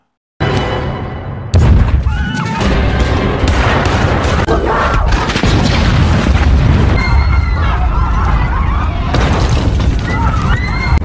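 Car explosion in a Los Angeles gangster film, a loud booming blast with dense crackling debris that rumbles on for several seconds, mixed under loud film soundtrack and voices.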